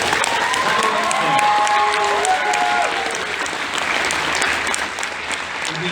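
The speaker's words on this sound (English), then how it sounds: "Let's just give him a big round of applause." Audience applause at an anime convention panel, a dense steady wash of clapping from a large crowd, loud and continuous with a few faint whoops early on.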